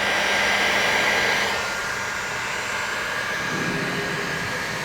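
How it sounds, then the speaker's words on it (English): Heat gun blowing hot air onto the tire of a Cub Cadet RZT-54 zero-turn tractor on a cool day, a steady loud close-up whoosh that drops slightly in pitch partway through, with no talking. "Let's get our heat gun. Get the tire a little warm, see if that helps."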